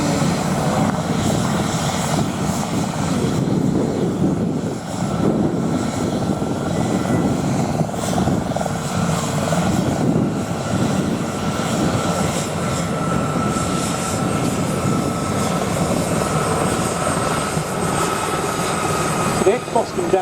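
Gazelle helicopters flying past at an air display, with a Boscombe Down Gazelle in the lead; a loud, steady rotor and engine drone that persists throughout while a commentator talks over it.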